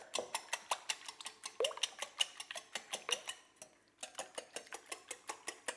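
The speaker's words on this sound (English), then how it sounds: "I have some eggs here that I'm going to whisk together." Eggs being whisked in a bowl give rapid, regular metallic clicks and taps, close and fairly quiet, with a short pause midway before the rhythm resumes.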